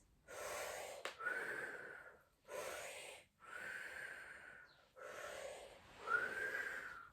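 Slow, audible breaths during fascial stretching exercises, with four long airy inhale-exhale cycles carrying a slight wheezy, whistling edge, close to the microphone in a quiet room.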